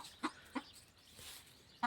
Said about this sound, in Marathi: की कोंबडी वरडते खुड